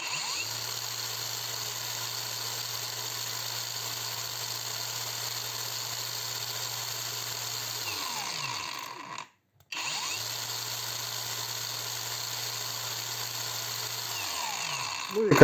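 A DEVETECH AG-560W angle grinder runs at third speed with a steady, high electric whine that cuts out briefly, then resumes at the same pitch, close by with no talking.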